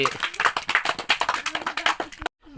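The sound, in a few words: children clapping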